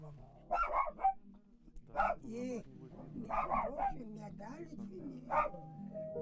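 A dog barks in short repeated bursts, several sharp barks and yips spaced across the moment at a home in provincial Russia, close by, with people talking around them.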